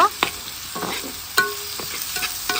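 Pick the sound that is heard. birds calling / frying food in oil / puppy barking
frying food in oil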